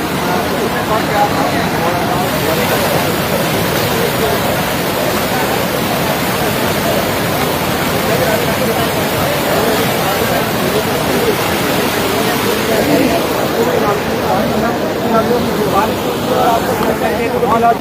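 A swollen, rising river in Rajouri rushes past with a loud, constant roar of flowing water, close and unbroken for the whole stretch, with voices mixed in under the noise.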